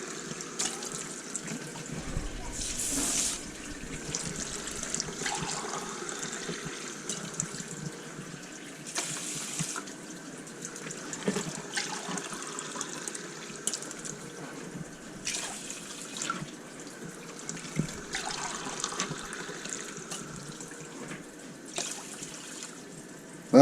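Tap water running into a pot to measure water for cooking rice in a home kitchen, a steady trickling flow with splashes and small shifts in the stream, continuous and fairly quiet with no talk.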